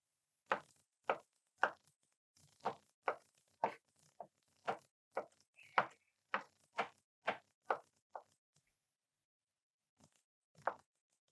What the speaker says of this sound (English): Now it's time to chop up the eggs.